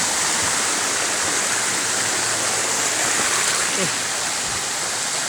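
Wang Sai Thong waterfall in Satun, Thailand, pours with a loud, unbroken rushing roar that fills the whole clip, and faint voices are barely present beneath the water.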